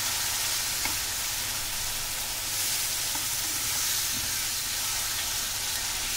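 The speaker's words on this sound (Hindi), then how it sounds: "अब हम डाल रहे हैं इसमें अदरक और ये टमाटर, पिसा हुआ टमाटर, और इसको करेंगे अच्छे से मिक्स" Ground tomato and ginger hiss and sizzle steadily in hot frying masala for a rajma curry, a dense close crackle with faint stirring scrapes and no talk.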